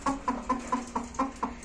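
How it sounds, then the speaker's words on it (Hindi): A hen clucks in a quick regular series, about seven short clucks close by on a rooftop, evenly spaced with no talking. "देखिए सामने ये मुर्गी भी आ गई है"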